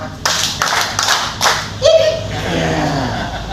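Rhythmic audience clapping in a 'tepuk 4,5' pattern at a book discussion evening, several sharp group claps in a beat before a brief tonal chirp and murmuring voices.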